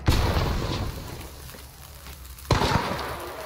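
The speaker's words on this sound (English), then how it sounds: "Grenade." A grenade goes off in Hunt Showdown: one loud blast opening the clip and a second sharp boom near the end, each rolling into a low rumble, with a steady ambient bed between them.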